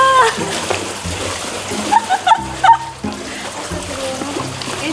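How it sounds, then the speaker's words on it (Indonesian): Big ocean waves splash and break in short, irregular bursts, with voices faintly audible beneath the water noise. "Ombaknya gede banget guys."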